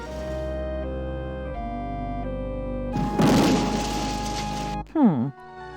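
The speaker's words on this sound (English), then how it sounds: "It would seem that keeping a lit firecracker in one's pocket isn't the best course of action." In the King's Quest 7 adventure game, a lit firecracker goes off in a pocket with a sudden, loud crackling burst over steady game music. A short warbling sound follows right after.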